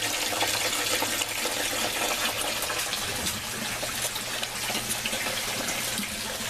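Water begins pouring into an aquaponics fish tank in a greenhouse, a steady broadband gushing and trickling that stays close and even throughout with no voices.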